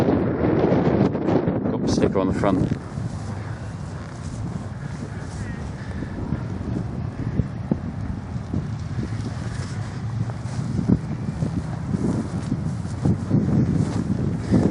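Strong, dusty wind buffets the microphone nonstop at a motorcycle festival campsite (ABR fest 2022), a loud gusty rumble under a voice as he talks through the opening seconds.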